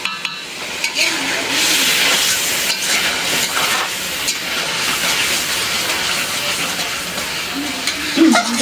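Mung dal hissing and sizzling loudly in a hot pan of spices for khichuri, with a steady frying roar broken by stirring scrapes and a voice speaking briefly over it.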